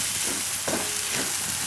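Chilli powder, coriander-cumin and Kashmiri red chilli stirred through hot oil in a frying pan for a paneer and corn curry, giving a steady close sizzle with a couple of soft scraping strokes of the spoon.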